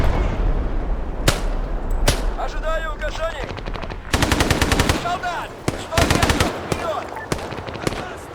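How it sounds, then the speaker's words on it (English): Rapid bursts of heavy automatic gunfire and booming cannon shots in a military video game battle, loud and close, with continuous firing in clusters and faint talk underneath. "That tank is laying into them."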